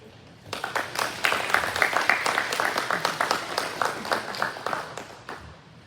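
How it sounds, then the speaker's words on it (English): An audience at a soil health and farm economics talk breaks into applause, a crowd of hands building quickly into a steady, moderately loud patter that holds without talk. "So we get a clap now."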